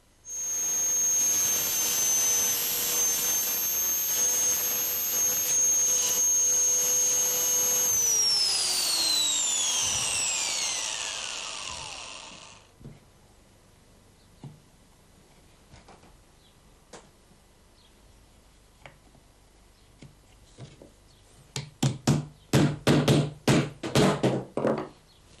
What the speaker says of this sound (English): we're now ready to enlarge these holes to accept the T-nuts